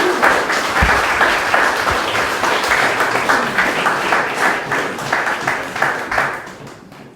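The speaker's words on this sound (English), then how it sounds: "Big round of applause for them folks who sip from the quaich." Wedding guests applaud after a quaich-sipping toast at Rob and Tracey's ceremony, a dense, steady round of clapping from a roomful of people that carries on for several seconds before tapering off at the end.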